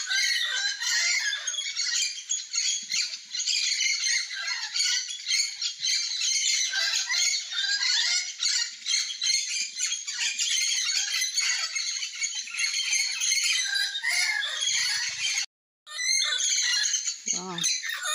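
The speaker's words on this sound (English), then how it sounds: "Parrots, I think. Parrots." Parrots squawk continuously in the forest at Tikal, Guatemala, a dense chorus of harsh, overlapping calls filling the air for the whole stretch, with a brief pause near the end and a low voice speaking under them.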